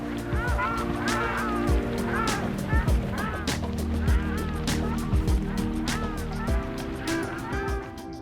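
Migratory wild ducks call in a busy flock, overlapping honks and quacks repeating in quick irregular bursts over a constant background murmur.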